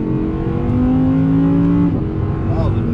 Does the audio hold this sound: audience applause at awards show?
no